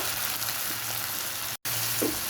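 Chopped onions fry in ghee with a continuous, dense sizzle close up, with a brief cut in the sound near the end and a faint clink after it.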